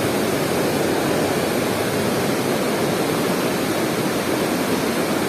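River water rushing through a tunnel at Wawa Dam, a constant loud broadband roar of flowing water, steady and unbroken, with no voices.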